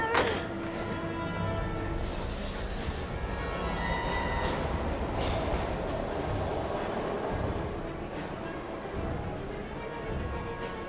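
A train rolls past in the video game Heavy Rain, a continuous rumbling passage with metallic wheel squeal and clatter, loud and close throughout with no one talking.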